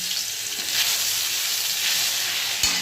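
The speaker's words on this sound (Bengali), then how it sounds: "তেলটা হয়ে গেছে, আদা রসুন পেস্টটা আমি দিয়ে দেবো" Ginger garlic paste hits hot oil in a wok, giving a loud, continuous close-up sizzle with a faint clink near the end.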